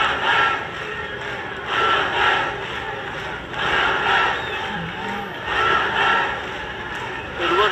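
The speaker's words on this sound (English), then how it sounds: "Now the Bangladesh fans still cheering on." Bangladesh fans cheer in a stadium during a SAFF U20 Championship football final against India, their roar rising and falling in broad waves from a large, distant crowd, with no nearby voices.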